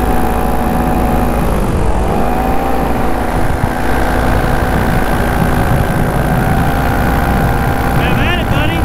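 A paramotor engine drones during a takeoff from a mountain, with a Sirocco Black Wing. The buzzing tone is loud and sustained, dips briefly in pitch early on, then holds steady while a person talks over it.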